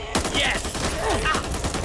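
Rapid gunfire in the zombie shooter Back 4 Blood, a dense burst of sharp shots layered with shouted voices and game noise, loud and continuous for under two seconds.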